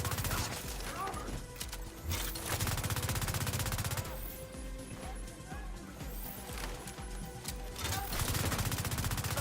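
Assault rifle fire in The Division 2, a looter shooter game: dense, loud bursts of automatic shots that run almost nonstop, with brief breaks and changes in intensity.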